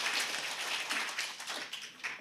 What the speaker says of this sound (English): one round of applause to her.